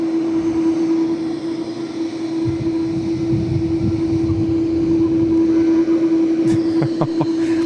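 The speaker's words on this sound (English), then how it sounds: "This was the same aircraft that was making all that noise holding short of the bay a little while ago." A jet aircraft at Tokyo Haneda airport gives off a loud, steady engine drone with a strong sustained whine and a low rumble that swells in the middle, heard close and continuous, with a few brief higher clicks near the end.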